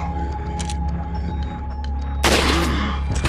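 Sniper rifle shots in the Resident Evil 4 video game: muffled thuds over a humming background, then one loud, sharp broadband blast near the end.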